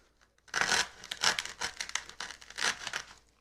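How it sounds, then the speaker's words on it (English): Scissors snip through material at a rustic centerpiece of faux velvet ornaments and mushrooms, giving several close crisp cuts mixed with rustling and crinkling over about three seconds, with no talking. "I'm just going to cut a hole, or, you know, cut like an"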